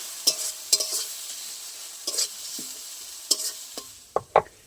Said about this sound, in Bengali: হলুদ, এগুলো ভালো করে একসাথে আমি মিক্স করে নেবো, যত সময় না টমেটোটা ভালো করে গলে যাচ্ছে।